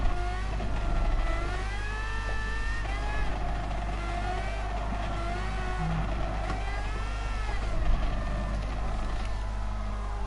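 Red Bull X2019 race car engine in GT Sport during an endurance race, a loud continuous high-revving whine with rising and falling pitch through gear shifts, sustained throughout.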